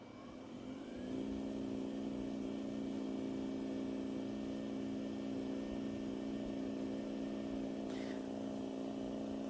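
Hypervolt and Ached Away massage guns run at level 1, starting up in the first second and then holding a steady, close, humming buzz with a constant pitch, fairly quiet and alone.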